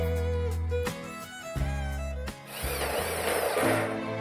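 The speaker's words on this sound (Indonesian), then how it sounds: "baru kemudian kita tambahkan 2 buah baut baja ringan yang lainnya" A power drill whines as it drives light-steel screws into the frame of a second-floor terrace canopy with an aluminium roof. The motor pitch shifts through steady stretches, and a coarser, gritty grinding comes in as the screw bites into the steel.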